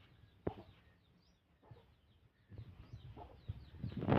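Free-range country hens cluck softly on a farm, scattered short calls and low murmurs, quiet at first and growing busier and louder toward the end, with no talking.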